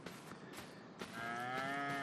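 A Highland cow in the farming survival game Before The Frost lets out a single drawn-out moo, rising into a clear harmonic call over soft background ambience, with no voices.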